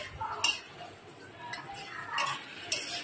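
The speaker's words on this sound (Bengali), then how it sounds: "দিয়ে পোলাও চাউলটি এখন আমি একটু ভালো করে নেড়েচেড়ে ব্রাউন কালার করে ভেজে নিচ্ছি।" Polao rice stirred and fried in a pot until browned, with quiet scraping and a few sharp clinks of a utensil against the pot at scattered moments.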